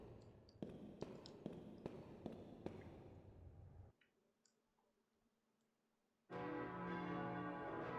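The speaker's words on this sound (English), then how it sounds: "What's that bell?" A bell tolls about six times at a slow, steady pace in the PlayStation game Koudelka, each stroke sharp and ringing out. A quiet pause follows, then a dense, loud musical swell takes over.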